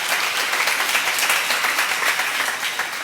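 Church congregation at a sermon seminar applauding together, a dense, steady wash of many hands clapping that fills the space evenly for several seconds, loud and sustained without pause.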